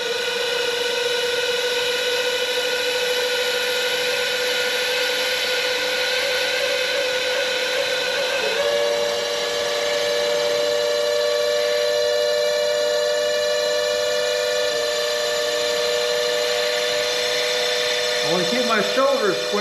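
Walnut pepper mill blank spinning on a wood lathe, a steady high whine with sustained tonal hum and cutting hiss running continuously, loud and close, with a brief pitch shift midway and scraping at the end.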